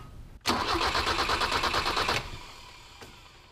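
A 1985 BMW 318i with the M10 four-cylinder and L-Jetronic injection, suffering a no-spark fault, cranks steadily for about two seconds with a rapid rhythmic starter churn, then cuts off without catching, close and loud.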